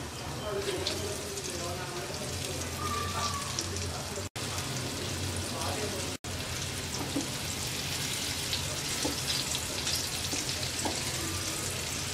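Cauliflower nugget pieces sizzle in hot oil in a wok, a dense steady crackle and hiss that carries on throughout with brief cuts. A voice speaks faintly underneath.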